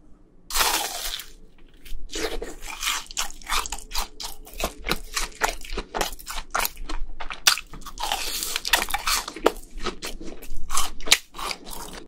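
BHC cheese balls crunched and chewed up close at a fried-chicken mukbang, a dense run of sharp bites and crackly mastication lasting the whole stretch, with no talk.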